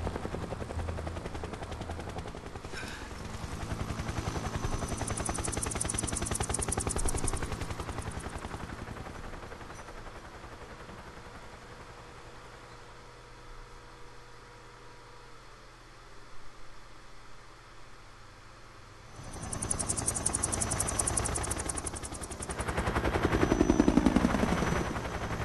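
In the video game Metal Gear Solid 3: Snake Eater, a helicopter's rotor roar rumbles steadily alongside rattling bursts of gunfire, loud at first, quieter in the middle, then swelling again toward the end.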